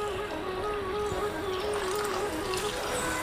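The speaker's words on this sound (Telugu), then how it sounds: "వాటర్ పోసేసాను." Water pouring steadily into a cooking pan while making dhaba-style paneer curry, a continuous close trickling and splashing wash with no talk.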